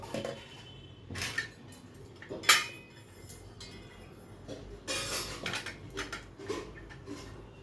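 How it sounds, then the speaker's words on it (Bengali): Metal pressure cooker lid set onto the pot and fitted with a few clinks and clanks, a sharp rattle in the middle and scattered scraping handling noises close by, no talk. "এই যে এখানে প্রেসার কুকারের ঢাকনাটা দিয়ে দিলাম"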